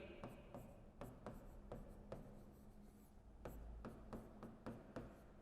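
Chalk or marker writes on a board during a lecture, a quiet series of irregular taps and short scratchy strokes spread across the moment.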